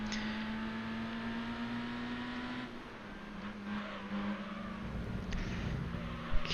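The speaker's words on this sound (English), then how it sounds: "I can hear the other cars behind me" Race cars in Gran Turismo 3 make a steady, fairly quiet engine whine that drops in pitch partway through, with other car engines coming in behind it.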